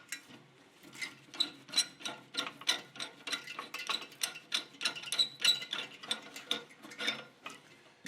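TXV valve fittings are worked loose from a refrigeration system, giving a rapid run of faint metallic ratcheting clicks in an uneven rhythm close by, with no speech.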